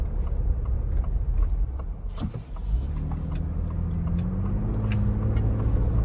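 A Ford Bronco Raptor's turbocharged engine drones steadily, then climbs in pitch as it revs up under hard acceleration, heard from inside the cab.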